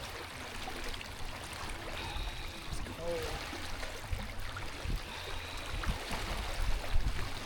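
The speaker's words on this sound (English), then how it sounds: "God, this is pretty strong current here. This is the water off the mountain." Steady rushing water from a fast, strong mountain stream during flooding in Hội An, Vietnam, continuous broadband flow with talk over it and occasional splashes.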